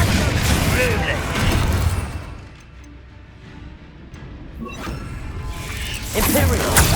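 Explosions from the Confringo blasting spell in Hogwarts Legacy on PC, loud crashing booms with debris at the start and end of the clip, a quieter stretch of rumbling and clatter between them.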